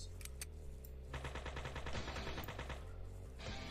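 Rapid weapon fire from the video game Three's Too Many, starting with a couple of isolated shots and then breaking into a sustained, evenly spaced machine-gun-like burst, fairly quiet and alone.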